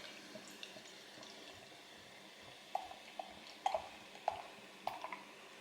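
Baltika No5 golden lager poured from a pull-top container, a soft continuous liquid trickle with several faint splashy drips and glugs toward the end, quiet and close with no talking.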